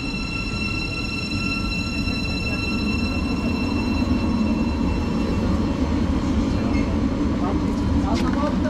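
A train runs on the Hertford Loop Line with a steady rumble and faint high wheel squeals, heard loud and continuous from on board, with some talk underneath.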